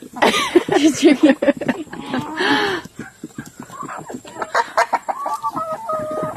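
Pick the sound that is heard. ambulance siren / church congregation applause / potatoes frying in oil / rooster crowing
rooster crowing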